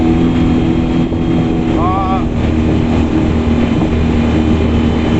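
Small fiberglass boat motoring along a canal, its engine a steady, loud drone with a constant hum running through, brief faint tonal chirps in the middle.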